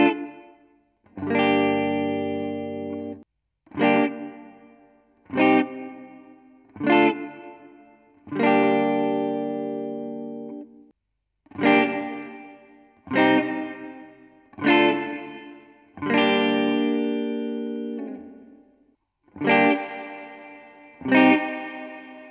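Electric guitar chords strummed one at a time through a NUX Mighty 8BT amp, each ringing out with lush reverb and a processed, effected tone, separated by short pauses.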